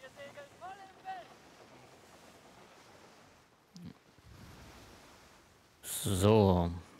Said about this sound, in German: Wir segeln voll im Wind.